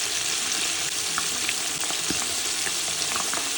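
Jamaican French fried chicken frying in a pot on a home stove, a steady, loud, dense sizzle with small pops and crackles throughout and no talking.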